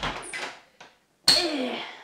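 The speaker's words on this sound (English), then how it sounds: "So I'll shut the door." An indoor house door swings shut after coming in from the garden, giving one firm thud with a bright latch click, followed by a brief rustle and a rushing movement sound up close.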